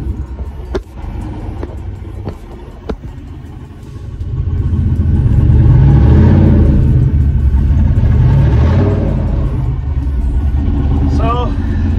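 A lowered 4x4 street truck stuck in snow while still in two-wheel drive revs its engine into a loud, sustained low rumble that swells partway through and holds, with wheels spinning and the truck going nowhere.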